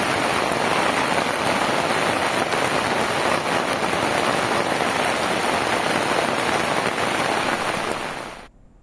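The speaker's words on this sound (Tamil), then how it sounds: "தமிழகத்தில் தஞ்சை, நாகை உள்ளிட்ட பல்வேறு மாவட்டங்களில் பரவலாக மழை." Widespread steady rain across the Thanjavur and Nagapattinam districts of Tamil Nadu, a dense continuous hiss of drops on surfaces that stays loud and even throughout, then cuts off abruptly at the very end.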